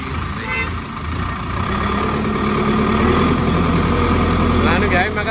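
Preet 6049 tractor engine running in creeper-speed gear, a steady low rumble with a throbbing undertone that holds throughout while people talk over it.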